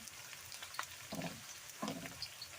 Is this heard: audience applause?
no